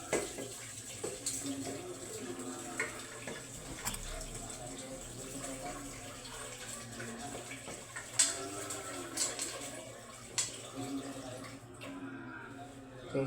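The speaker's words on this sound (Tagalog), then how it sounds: "Hugasan natin ang unang hugas." Tap water runs steadily while raw chicken feet are rinsed in a kitchen, a continuous close splashing with small clinks and drips throughout.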